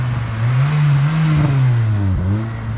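Nissan 240SX with an SR20 engine revving hard toward redline, a loud close droning engine note that holds high, wavers, then drops sharply, with no talk.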